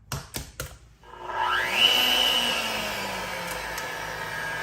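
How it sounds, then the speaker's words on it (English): An electric mixer kicks on after a few knocks and whirs continuously with a steady droning hum, beating keto chocolate cake batter as eggs are cracked in, close by. "we'll go ahead and get the mixer started"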